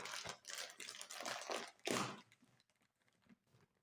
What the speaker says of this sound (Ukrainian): Порвав пів упаковки.